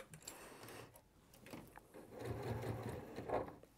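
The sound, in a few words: sewing machine with wide walking foot stitching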